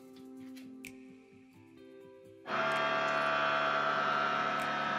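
Air suspension compressor kicks on partway through, filling the air bags with a steady, loud mechanical whir after a quieter stretch of hum and small ticks, running continuously to the end with no talk.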